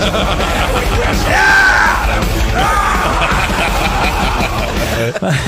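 Rowdy group of drunk passengers yelling and whooping in the back of a van, voices overlapping with laughter, loud and close for several seconds.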